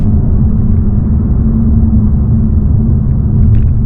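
Steady, loud engine and road rumble inside a 2026 Mazda 3 Select Sport hatchback, Japanese-built, driven in sport mode, holding a constant droning tone with no talking.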